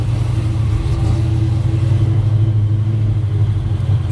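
A deep, throaty 1969 Chevrolet Chevelle SS engine rumbles steadily at close range, its low growl rising slightly as if revved, with no voices over it.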